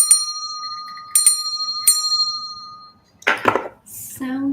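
A bell is struck three times for sound healing, each clear ringing tone decaying slowly, followed by a brief clatter and a voice speaking.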